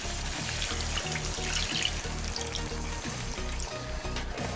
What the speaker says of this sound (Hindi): ये लूक वार्म वाटर ऐड कर रही हूँ मैं।